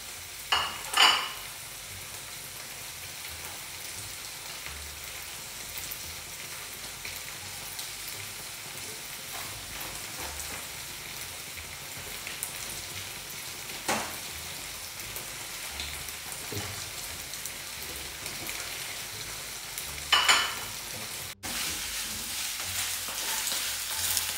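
Dough frying in hot oil for a first-day-of-Ramadan meal, a steady broadband sizzle throughout with a few louder crackling bursts and pops, near and moderately loud, no talk.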